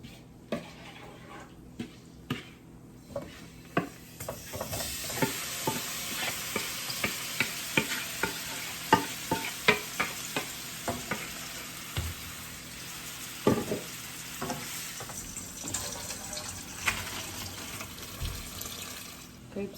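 Shrimp fry in olive and grapeseed oil, a hissing sizzle that swells after a few seconds, with repeated clicks and scrapes of stirring and a running-water wash in the background, close and moderate in level.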